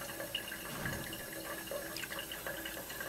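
Distillate from a homemade moonshine still falls drop by drop, giving soft, close trickling and dripping over a steady watery background hiss.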